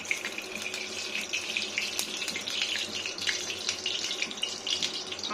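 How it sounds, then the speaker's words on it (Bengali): Tap water runs steadily over potatoes being washed in a kitchen sink, a continuous close splashing gush with no talking. "আলুটা ধুয়ে নিই।"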